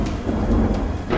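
Steady heavy rain with a deep rumble of thunder underneath, loud and continuous across a brief stretch during a monsoon storm in Bihar.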